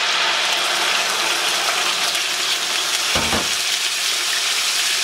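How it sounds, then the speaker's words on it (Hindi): Steady, loud sizzling of onions and dry spices frying in a hot pan on high flame, a continuous crackling hiss with a brief stirring scrape near the end. "आपने इसको फ्राई इतना करना है हाई फ्लेम पे कि इसका कच्चापन खत्म हो जाए"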